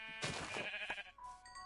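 A sheep in Minecraft bleats once, a clear wavering game sound effect followed by a short tonal blip, with no talk.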